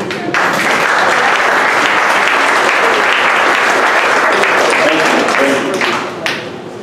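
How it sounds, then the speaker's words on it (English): A Dallas audience at a 1 Million Cups startup event stands and applauds to welcome a presenter, with sustained loud, dense clapping that holds steady for several seconds before tapering off at the end. "here in Dallas we stand up and we give a round of applause"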